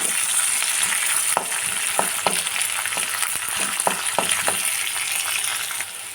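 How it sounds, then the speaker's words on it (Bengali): Raw peanuts fry with vegetables in a pan, a steady loud sizzle broken by repeated sharp clacks and scrapes of stirring. "কাঁচা বাদামটা দিয়ে ভালো করে বাদামটাকে ভেজে নিতে হবে সবজির সাথে"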